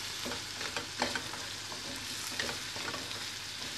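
Curry powder stirred in a hot pan while preparing chicken katsu curry, a steady close sizzle with repeated soft scraping strokes of the stirring utensil running throughout.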